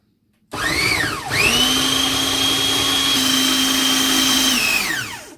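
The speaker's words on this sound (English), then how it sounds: "So I'm gonna blend them very, very smooth, as I mentioned earlier." Electric blender whirring a Lebanese kofte meatball mixture smooth, a loud motor that starts abruptly, dips, surges back to a steady high whine, then spins down; no talking over it.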